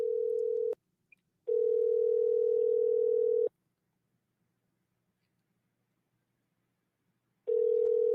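A steady telephone dial tone sounds in three loud bursts separated by silent gaps while a call is being placed.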